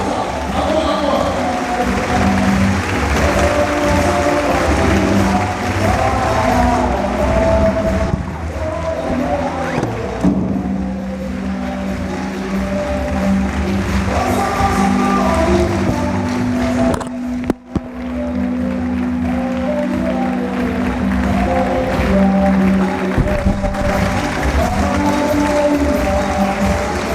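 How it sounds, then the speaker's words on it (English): Audience at a university speaker series applauds a distinguished speaker in a long, loud, continuous wash of clapping and crowd noise, with tonal music or hum running underneath. "Applause"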